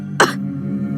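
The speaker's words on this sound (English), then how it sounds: "You're coughing up blood." A BlazBlue video game character coughs up blood in a single short, sharp cough. It sits close and loud over a steady low musical drone.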